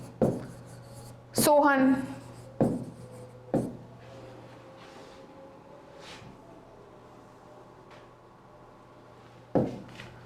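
Handwriting on paper while entering accounting journal entries, soft intermittent scratching strokes between sharper taps, with someone speaking over parts of it.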